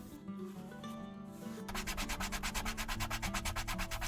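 Leather handbag edges being burnished, a rapid rhythmic rubbing that starts about midway and continues in fast, even back-and-forth strokes, close and steady, with no voices.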